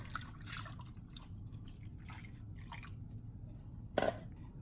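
Whole milk is poured into a bread pudding mixture, making quiet, soft liquid splashes and drips, with a short louder splash near the end.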